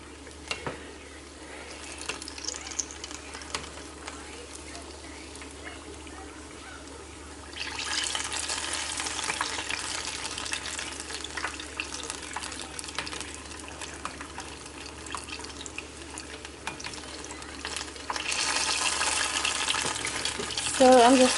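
Apple pie egg rolls deep frying in hot oil, a steady bubbling sizzle that grows louder partway through and rises again near the end, close by with no talk.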